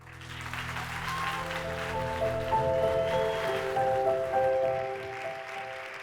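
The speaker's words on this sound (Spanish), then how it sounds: "Merecido aplauso." Audience applause at a scholarship award ceremony, a steady even wash of clapping from a seated crowd lasting several seconds, with music tones playing underneath.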